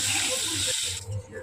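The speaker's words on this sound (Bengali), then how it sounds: "আগে থেকেই সিদ্ধ করে রেখেছিলাম এবং সেই আলুগুলোই এখন কড়াইতে দিয়ে তাদের পরিমাণ মতন লবণ হলুদ দিয়ে ভালো করে লাল লাল করে ভেজে নেব" Boiled potatoes fry in a kadai with salt and turmeric, giving a steady, loud hiss of oil with a brief break midway, close up, with no speech over it.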